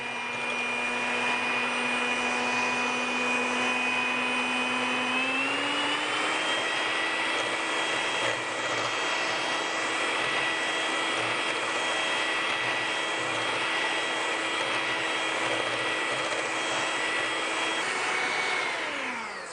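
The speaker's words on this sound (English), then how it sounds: "So the first thing you're going to do is you're going to start whipping the heavy whipping cream" An electric hand mixer whips heavy whipping cream in a kitchen, a steady loud motor whine with a single step up in speed early on, continuous throughout and winding down at the end, with no talking.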